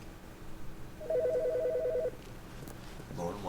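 Telephone ringing in a warbling electronic trill for about a second, with quieter room noise before and after and a brief chirp near the end.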